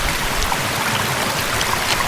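Creek water rushing steadily beside a forest trail near Sitka, Alaska, a dense close-up broadband wash with no gaps and no voices over it.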